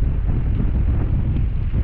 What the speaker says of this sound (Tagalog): Lumalakas lalo yung hangin.